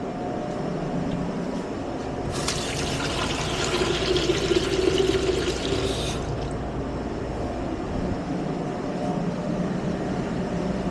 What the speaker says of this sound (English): we're gonna add another quart of water to that too